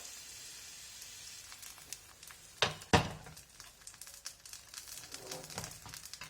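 Oats dosa sizzling in a hot pan as ghee is added, a soft steady hiss broken by a few sharp crackling pops, close and without talk.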